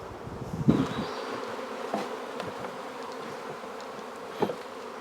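Dense honey bees hum steadily around an open beehive during early-June hive work, a close, continuous buzz with a few louder passes and brief thumps from handling the box.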